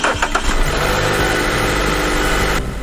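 A Mazda CX-5 engine cranks and fires up right after a spark plug change, settling into a steady, loud idle close by for a few seconds before the sound cuts off.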